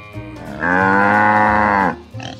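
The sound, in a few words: cows mooing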